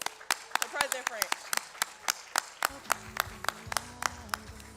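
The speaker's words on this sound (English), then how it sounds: "let's just get another round of applause for President French." An audience at a student presidential salute claps in sharp, distinct strikes, a sparse and roughly rhythmic series of nearby handclaps. Voices talk beneath it.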